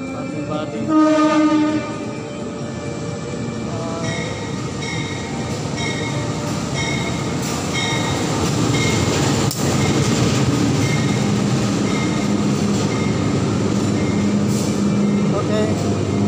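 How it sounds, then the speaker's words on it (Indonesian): Kertanegara passenger train from Purwokerto to Malang passing close by, its horn blaring in a long opening blast and repeated tones over the heavy rumble of rolling cars, with people talking nearby. "kereta api Kertanegara dari Purwokerto Malang"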